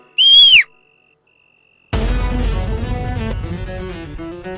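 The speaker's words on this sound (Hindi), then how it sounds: "मैडम से मैं सीटी बजा दूंगी" A single short, shrill whistle blast is blown as a warning signal, loud and close, followed after a pause by background music.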